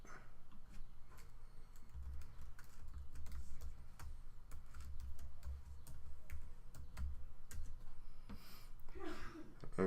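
Computer keyboard typing during Vue JS coding, a continuous patter of close, fairly faint key clicks over a low background hum, with a brief louder rustle near the end.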